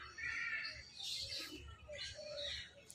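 Parrots chirp in an aviary at a zoo in Lake View Park, Islamabad, with several bright, fairly faint chirps and calls over a low background murmur.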